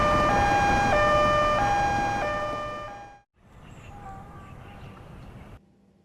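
An ambulance siren wails in a loud alternating two-tone pattern, then fades away, followed by a quieter stretch of steady background noise.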